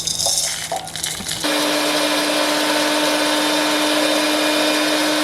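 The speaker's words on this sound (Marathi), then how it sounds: "तर आता आपण आहे ना मिक्सरला लावून घेऊया" Kitchen mixer grinder blending cooled onion chutney into a coarse paste. A brief quiet clatter gives way to a loud, steady motor whine with a constant hum that holds to the end.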